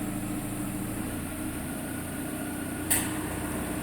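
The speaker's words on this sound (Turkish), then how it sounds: "Klimamızı çalıştırıyoruz. Araç şu an rolantide." A Peugeot 307's engine idles with a steady low hum while the air conditioning runs with a faint airy fan whir, and a brief high click cuts in near the end.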